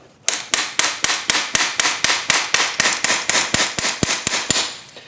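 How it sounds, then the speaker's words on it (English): Rapid, steady hammer blows on metal as a CV axle boot is knocked into place, about twenty sharp ringing strikes in an even rhythm, close and loud, with no talking. "I'm going to knock this in with a hammer"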